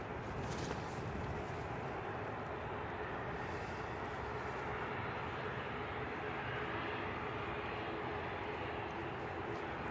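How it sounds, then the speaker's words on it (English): An EasyJet plane touches down at Manchester Airport, heard as a steady, broad roar of jet engines at a distance, fairly faint and unbroken for the whole stretch, with no speech. "Nice touchdown there from that EasyJet."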